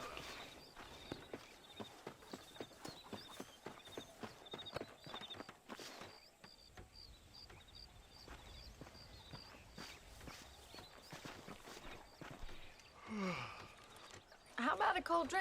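In Red Dead Redemption, horse hooves clip-clop in a steady, even walking rhythm for several seconds, fairly close and moderate in level, then fade as characters talk and other game sounds take over.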